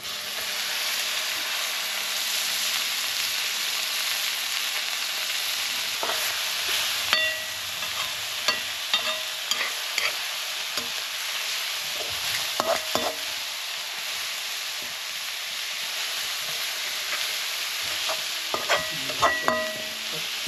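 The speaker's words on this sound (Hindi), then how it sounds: "जब अंडा अच्छी तरह पक जाता है तो उसमें नरम किया हुआ गुंद्रुक मिला दिया जाता है।" Egg fries with softened gundruk in a wok, a steady loud sizzle punctuated by scraping and clinking stirs from a utensil in a remote Nepali village kitchen.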